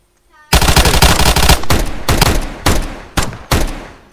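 Loud, close automatic gunfire in a roleplay video game, opening with a long sustained burst and followed by several shorter bursts separated by brief pauses.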